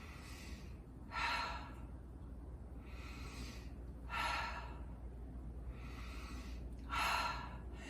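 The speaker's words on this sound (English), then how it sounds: "just a few drops in our hands and just breathe it" Three slow, close inhalations of a Respiratory Comfort essential oil blend breathed from cupped hands, evenly spaced breaths over a faint background hum.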